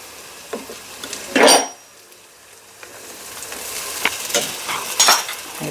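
Ginger garlic paste for chicken biryani hitting hot oil in a pan, with a sharp burst of sizzling scrape near the start and several more spatula strokes over a continuous low frying hiss.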